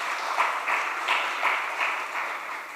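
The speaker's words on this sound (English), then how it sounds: "And another round of applause, please." Audience applause after a dance performance at a talk show event, a steady wash of clapping from a crowd held for the whole stretch with slight swells, no voices over it.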